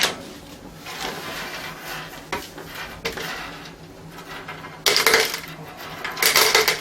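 Screws dropped into a screw pot while a Hitachi S-4000 computer console is taken apart, with close metallic clinks and rattles, a few small impacts, then louder jangling spills near the end.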